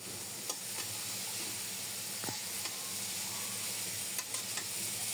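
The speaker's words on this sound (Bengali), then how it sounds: "হালকা নাড়াচাড়া করে দিচ্ছি" Snake gourd pieces sizzle steadily in a hot pan while being lightly stirred, with a few soft scraping knocks of the spoon; close and fairly quiet, with no talking.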